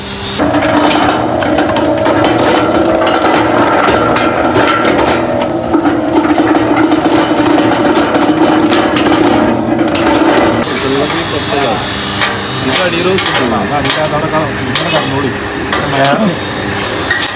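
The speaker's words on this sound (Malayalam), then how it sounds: "ഇതാണ് ചകിരി പൊടിക്കുന്ന മെഷീൻ" A coconut coir pith grinding machine at a coco peat mill runs continuously and loudly with a dense mechanical rattling and grinding roar; its tone shifts partway through.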